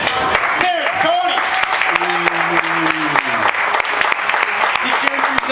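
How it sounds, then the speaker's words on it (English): A restaurant audience claps to welcome a guest. Steady, dense applause runs throughout while voices talk and call out over it. "please put your hands together and welcome the big man himself"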